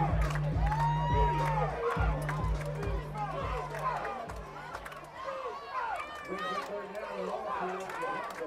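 A football crowd at a high school bowl game cheers after a defensive stop by the Mira Mesa line, with whoops and shouting rising over a busy stadium backdrop while an announcer talks over it.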